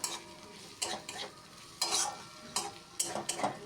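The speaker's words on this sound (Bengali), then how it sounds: "এভাবেই নেড়ে চেড়ে কিছুক্ষণ কষিয়ে নিতে হবে, যাতে ছোলার ডালটা একটু ভালো টেস্ট আসে।" Chana dal sautéed with cumin powder and spices in a pan, a soft sizzle broken by several sharp scrapes and clinks of a spatula stirring at irregular intervals, close and moderately loud.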